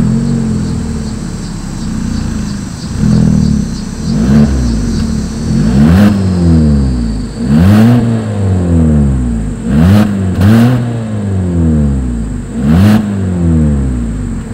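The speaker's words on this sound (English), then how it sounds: "As always, here is that exhaust clip." Exhaust of a 2020 Hyundai Kona AWD crossover with a single outlet, revved repeatedly up close: about six loud rising and falling surges of engine roar over a steady idle, with no talk.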